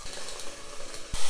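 Shishito peppers fry in a pan for a Japanese side dish, a steady close sizzle with light crackles, ending in a louder clatter or hiss burst.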